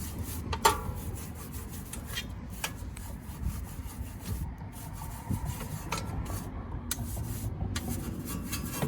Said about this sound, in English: Go back in with your cone brush, swivel side to side, catch behind the brake caliper.